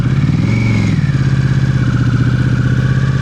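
A motorcycle engine runs loud and close with a steady throbbing rumble as the bike brakes almost to a standstill during a riding lesson, its pitch easing down.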